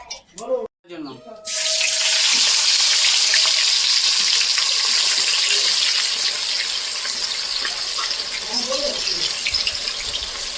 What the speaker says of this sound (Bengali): পেঁয়াজটা ভাজা হচ্ছে দেখো